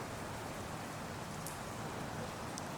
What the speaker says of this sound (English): Tonight we have been blessed with quite a lot of heavy rain